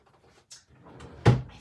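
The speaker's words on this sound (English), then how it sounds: "Let me look in my mail drawer." A mail drawer is pulled open with a single short sliding thump, close but fairly soft, in an otherwise quiet room.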